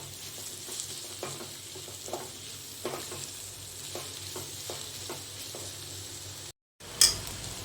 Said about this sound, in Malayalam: ഇതെല്ലാം കൂടി വഴറ്റി നല്ല ബ്രൗൺ കളർ ആകുന്ന വരെ വഴറ്റണം.